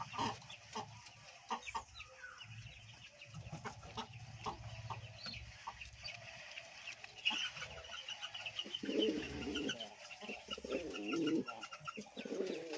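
Lakka pigeons in a farm cage give soft, repeated coos over low clucking fowl and scattered bird calls, close and fairly quiet, continuing throughout with no talk.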